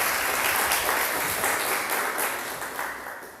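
Church audience applauds the word of God after a Portuguese-language Pentecost reading, a full, dense wash of clapping that stays loud and steady, then gradually thins toward the end.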